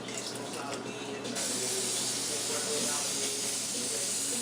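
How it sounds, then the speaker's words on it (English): Hairspray sprays inside a snapback cap with a close, steady aerosol hiss. It starts after a brief quieter moment and runs unbroken to the end. "After we spray the hairspray, we're gonna put the cardboard box in."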